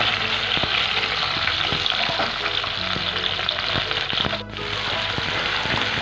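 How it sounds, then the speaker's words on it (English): Onions and green chilies fry in a pan alongside garlic, giving a steady, close sizzle with intermittent stirring clicks and scrapes, with a brief dip in the sizzle near the end. "Fry the onions until they turn light brown"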